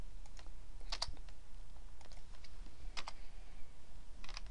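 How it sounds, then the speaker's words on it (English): Typing on a computer keyboard while working in a spreadsheet, with scattered soft key clicks in small bursts at close range over a quiet room hum. "I'm going to type a 3 here."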